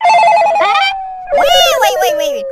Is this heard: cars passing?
no